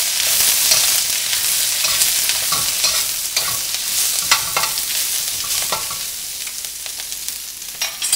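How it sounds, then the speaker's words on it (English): Cabbage stir-frying in a hot, smoking wok: a loud, close, continuous sizzle with scraping and tossing strokes of a utensil against the metal, slowly settling toward the end. "you're just stir frying the cabbage"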